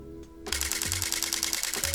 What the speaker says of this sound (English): Burst mode is actually pretty amazing on this thing.